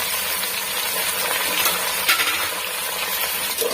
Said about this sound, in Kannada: ಎಲ್ಲ ತರಕಾರಿನೂ ಒಂದು 5 ನಿಮಿಷ ಎಣ್ಣೆಯಲ್ಲಿ ಫ್ರೈ ಮಾಡ್ಕೊತಾ ಇದ್ದೀನಿ